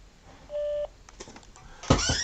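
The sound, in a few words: answering machine tone beep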